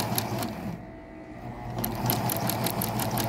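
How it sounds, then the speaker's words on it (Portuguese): A sewing machine stitches a seam in upholstery fabric for a box bed base, running in a fast rattling burst, pausing briefly, then starting up again with rapid mechanical ticking up close. "Eu vou passar uma costura deste lado e uma deste lado para fixar essa costura"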